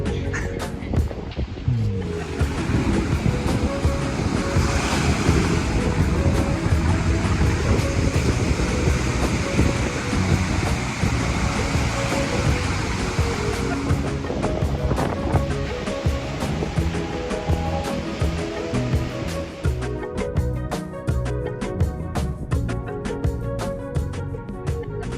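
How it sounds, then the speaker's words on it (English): Ocean waves break on the beach along the Fisterra coast in Spain, making a steady, full roar of surf that continues unbroken for the whole stretch, with tonal sounds layered in toward the end. "And as you can see, we are on the coast."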